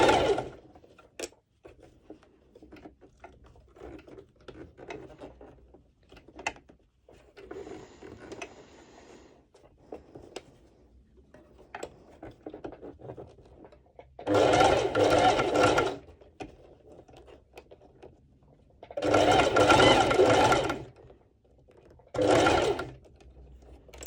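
Sewing machine stitching a ruched underwire bikini top, with quiet handling noises and rustling, then three loud close bursts of machine stitching of a second or two each.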